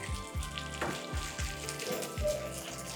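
Curry leaves tossed into a pan of frying onions, a close crackling sizzle broken by several rhythmic low thuds of stirring against the pan.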